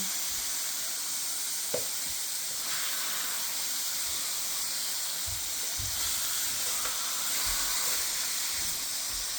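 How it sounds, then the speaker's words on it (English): Pork chops brown in a hot pan with a steady, fairly quiet sizzle and hiss, a few soft knocks and shuffles underneath. "so pork chops are browning up nicely. I'm going to go ahead and flip them."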